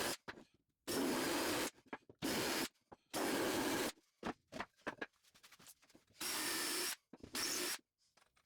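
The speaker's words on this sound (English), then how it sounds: "I'll use Forstner bits to dig a little bit in to be able to use washers." A power drill with Forstner bits bores shallow recesses into wood to seat washers. Several loud, close whirring bursts of about a second each are separated by short pauses and small clatters, with no voices.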